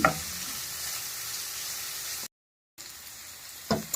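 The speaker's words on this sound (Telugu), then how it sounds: "క్యాబేజ్ అన్నీ వేసుకొని ఈ విధంగా మనము ఫ్రై చేసుకోవాలండి" Shredded cabbage and mixed vegetables frying in a hot pan for veg noodles, a close, steady sizzle broken by a brief silence, then a few sharp stirring scrapes.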